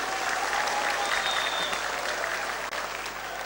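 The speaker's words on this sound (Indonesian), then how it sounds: "Tepuk tangan sekali lagi, saudara-saudara" Dense, steady applause from a large audience at a SOKSI anniversary and national working meeting in Bandung, Indonesia, a political rally, holding at an even loud level throughout with no voices over it.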